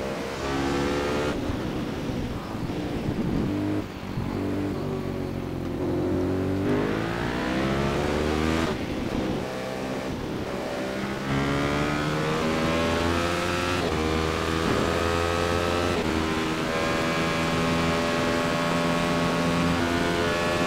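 Radical race car engine during a race, a loud continuous high-revving drone heard from the cockpit, with the pitch rising and falling through gear changes across the whole stretch.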